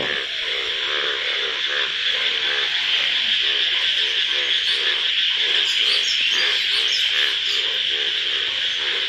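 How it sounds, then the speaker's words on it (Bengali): A dense chorus of frogs croaks without pause near a village pond after a stormy night of rain, a loud, steady pulsing wall of calls all around. "চতুর্মুখে খালি ব্যাঙ্গের শব্দ।"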